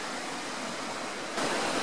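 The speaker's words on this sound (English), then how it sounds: "let's take a look at this brook" A woodland brook flows in a steady broadband rush of water with no voices, swelling noticeably louder near the end.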